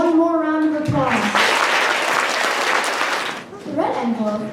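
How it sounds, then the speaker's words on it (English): Middle school audience applauding yo-yo performers at a Chinese New Year assembly, a full burst of clapping between stretches of a speaking voice at the start and end. "Let's give the yo-yo players one more round of applause."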